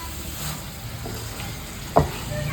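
Green chili masala frying in a pan, a soft continuous sizzle with faint stirring scrapes and one sharper clink near the end, close and fairly quiet.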